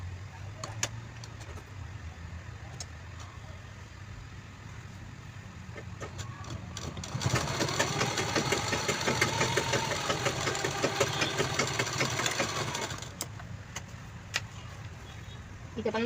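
A sewing machine stitches a zipper onto a fabric pouch. Its motor whirs steadily with rapid mechanical ticking for about six seconds, rising out of a quieter background and then stopping.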